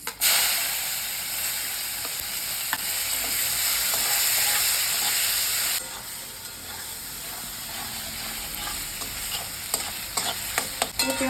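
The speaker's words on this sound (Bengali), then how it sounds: "পেঁয়াজটা যতক্ষণে ভাজা হচ্ছে" Diced onion cubes fry in a mix of oil and ghee, giving a steady, dense sizzle that drops a little halfway through. Small clinks and stirring scrapes sound close, and no one speaks.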